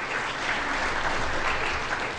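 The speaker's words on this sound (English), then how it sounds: "Can we have a round of applause for Dana, please" An audience applauds together at a debate event, a dense, even wash of clapping that holds steady from start to finish.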